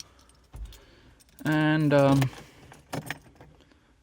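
Car keys for a Mercedes W124 jangle close by in a couple of short metallic bursts, with a single brief spoken word and a few soft handling clicks around them.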